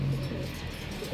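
Soft cooing of a racing pigeon close by, a low steady murmur running through the short moment with no talking.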